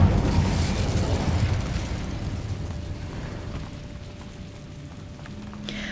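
The Incendio fire spell in the Hogwarts Legacy video game goes off with a loud fiery burst at the start, then a roaring rumble that fades over several seconds.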